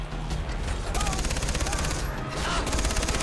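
Vehicle-mounted machine gun fire in the video game Far Cry 3, a rapid continuous stream of shots with bursts of battle noise, moderately loud, with someone talking over it.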